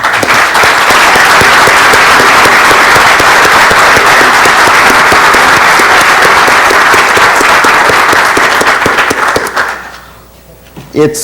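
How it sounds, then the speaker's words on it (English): A conference audience gives the organizers and chair a round of applause after a keynote lecture, loud sustained clapping filling the room for about nine seconds before quickly dying away. "So let's provide them with a round of applause, if you will."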